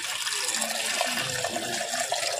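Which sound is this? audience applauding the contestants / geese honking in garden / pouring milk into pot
pouring milk into pot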